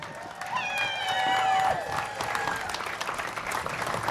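Crowd applause and cheering from about 2,000 walkers gathered outdoors on a Saturday morning at an Alzheimer's walk at Fiesta Texas, with whistles, whoops and a talking voice mixed in the noisy, sustained outdoor din.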